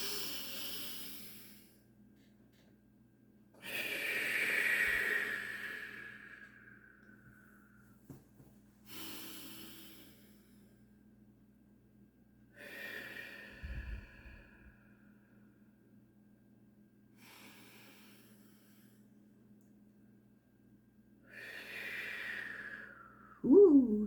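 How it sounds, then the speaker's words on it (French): Slow, deep breaths in and out during a calming tapping exercise, several long audible breaths separated by quiet pauses, close and soft with faint background hum. "Maintenant, on respire 3 fois,"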